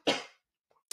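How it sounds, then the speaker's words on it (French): A single harsh cough from a person with a cold, loud and close, followed by a brief faint breath and a short sniff or clearing sound. "je vais tousser."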